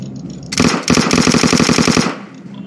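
A Vector submachine gun fires in a video game, a close, loud stream of rapid automatic shots split into two bursts of roughly a dozen rounds each, separated by a brief gap, then cutting off.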